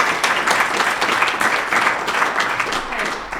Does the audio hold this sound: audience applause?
yes